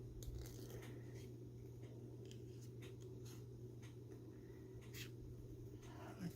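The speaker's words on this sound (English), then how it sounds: "I'm going up and down with my scissors, but I'm moving the paper" Scissors snip paper in short, faint, irregular cuts while the paper is turned for fussy cutting, over a steady low hum.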